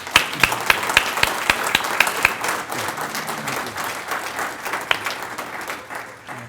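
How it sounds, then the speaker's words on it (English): Breakfast guests at a Scouting Good Scout Award event give the event chairs a round of applause, with several sharp, close claps cutting through at first and the sustained crowd clapping gradually tapering off. "Give our chairs a round of applause."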